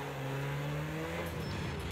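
Rally car engine in the racing game Project Cars 2 on a Rally X stage, droning steadily at a high pitch before dropping and roughening as the driver shifts and gets back on the throttle, loud and alone.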